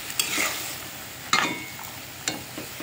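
A spatula stirs raw green peas frying in a pan for ghugni, giving a few sharp scrapes and clinks over a soft, steady sizzle. No one speaks.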